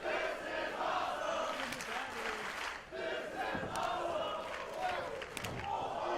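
A wrestling crowd at a PCW light heavyweight match roars and cheers in loud surging waves, with yells rising and falling across the arena.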